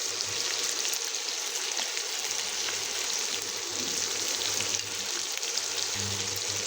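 Potato, onion and slit green chilies with salt fry in hot oil in a pan, giving a steady, dense sizzle that stays close and even from start to finish, with no talking.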